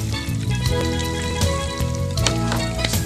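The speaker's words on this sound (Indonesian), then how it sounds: "kita goreng hingga berwarna kecoklatan" Food sizzles and crackles in hot oil as it fries to golden brown in a cooking-show kitchen, a steady dense bubbling hiss with small pops, heard alone and fairly loud.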